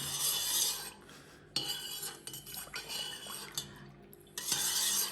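A spoon scrapes and clinks against a pot or bowl while homemade liqueur is stirred, in short uneven strokes with pauses, close up and fairly quiet.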